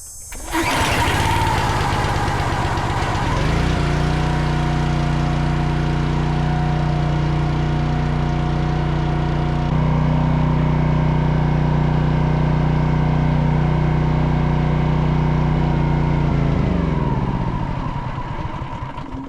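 A gasoline log splitter engine, recently restarted after six months idle, cranks and catches, then runs at a steady loud idle for many seconds before winding down as it shuts off.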